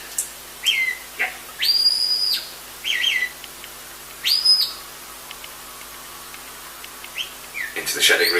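Sharp, high whistles from a shepherd ring out in short bursts and longer held notes, spaced irregularly across an otherwise quiet outdoor sheepdog trial, commanding a working sheepdog.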